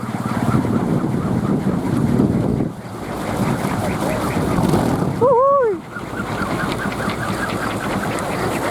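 A kolecer wind propeller spinning and rattling in strong gusts, with loud wind buffeting the microphone in surging waves, and a voice briefly calling out midway.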